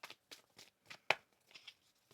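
Tarot cards shuffled by hand in several short riffling bursts, about six quick rustling strokes with one sharper snap near the middle, close and fairly quiet with no talking.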